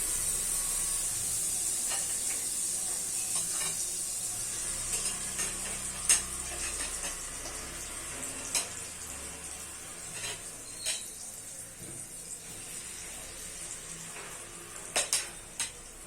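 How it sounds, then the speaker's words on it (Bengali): Semolina batter fries in butter on a hot tawa, giving a soft, steady sizzle with faint scraping clicks and taps of a utensil throughout, quiet and close with no talk. "তাওয়াতে আমি বাটার দিলাম। তারপরে গোলা মিশ্রণ একটু একটু করে ওর মধ্যে ঢেলে দেব।"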